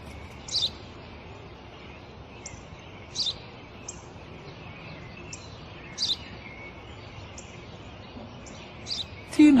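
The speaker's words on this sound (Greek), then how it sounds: "Ένα σπουργίτη." A sparrow chirps in short, bright bursts, repeated every couple of seconds over a faint background hiss, fairly close and clear.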